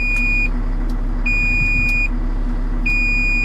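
A Komatsu HM300 articulated dump truck just after starting gives long, high electronic beeps that repeat at a steady interval, each lasting about a second, over a constant low engine idle hum.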